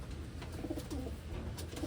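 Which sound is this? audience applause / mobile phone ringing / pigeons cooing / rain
pigeons cooing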